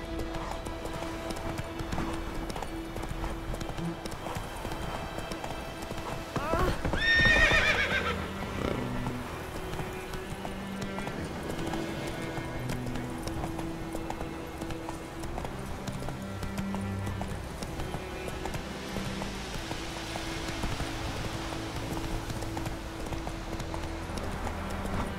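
Roach, the horse in The Witcher 3, galloping in-game with a steady rhythmic clip-clop of hooves throughout, a whinny near the start, and game music playing softly underneath.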